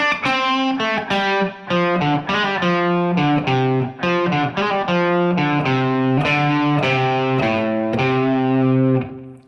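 An electric guitar plays a phrase from a song, with the bend done using a slide. Sustained, gliding distorted notes run continuously, close and loud.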